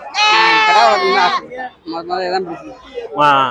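Young male goats bleat at the Ettayapuram goat market in Thoothukudi district, a loud, wavering cry held for over a second, then shorter bleats, with people talking nearby.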